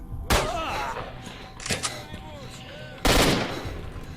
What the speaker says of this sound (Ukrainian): Тут стріляють, придурок!